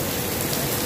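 Heavy rain pours down in Dubai as a loud, dense, unbroken rush of drops hitting surfaces, close and steady, with no voices.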